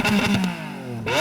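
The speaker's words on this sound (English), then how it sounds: "Let's hear the Lamborghini." A Lamborghini Aventador engine revving briefly up close, with a loud burst, a quick dip and a sharp climb again, all within a second or so.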